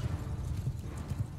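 Horse hooves clopping during a battle in the Mount & Blade II: Bannerlord video game, a rapid, steady galloping rhythm of close, muffled thuds with no voices.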